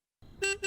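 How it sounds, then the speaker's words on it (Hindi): Two quick toots of a car horn sound from outside, sharp and moderately loud, the second following right after the first. "देखो कोई बाहर हॉर्न बजा रहा है।"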